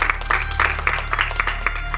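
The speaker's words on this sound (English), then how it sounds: "Let's give a round of applause for everybody that's here today." Audience applause at a boxing broadcast event in Las Vegas, a brief burst of irregular clapping over a steady low hum, moderately close and not very loud.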